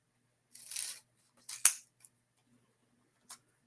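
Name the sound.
cutting paper in half for a Halloween craft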